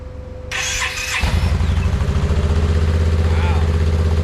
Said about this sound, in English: I wanted to see if it would start before I left.